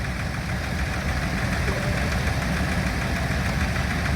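Diesel Major tractor at a steam traction engine rally. The engine runs close by with a steady, loud knocking idle and no pauses.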